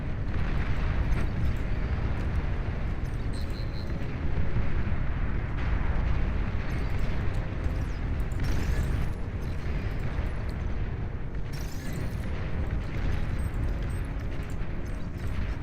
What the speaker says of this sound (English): What a successful bombing raid.